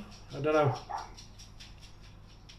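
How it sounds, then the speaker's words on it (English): A dog barks once or twice indoors near someone talking over an RC car differential repair, a short, moderately close yap heard under and beside the speech. "I'll have to excuse my dog barking"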